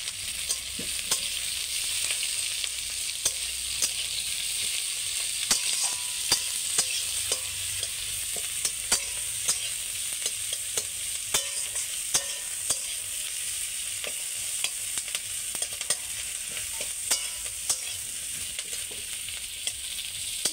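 Onions frying in a pan over a wood fire, a soft steady sizzle with frequent small crackles and pops throughout, fairly quiet and without talking.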